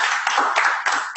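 A few people clap for a course, several quick bursts of hand claps in a short, fairly loud run with no talk.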